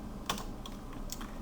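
Light clicks on a computer keyboard as a short folder name is typed, a handful of quick keystrokes in two small bursts, close and quiet with no talk.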